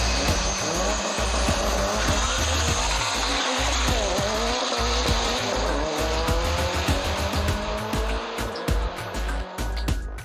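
Street race cars roaring past on a city street, engines revving loudly with tire squeal and skidding, a continuous dense rush of several vehicles racing by at close range.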